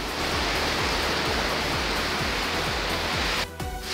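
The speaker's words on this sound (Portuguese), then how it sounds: "essa é a Cachoeira da Posse que eu falei, ó. 40 metros, ó, de pura água cristalina." Cachoeira da Posse, a 40-metre waterfall on a mountain trail in the Serra da Bocaina, roars as a loud, steady broadband rush of falling water that fills the whole scene without pause.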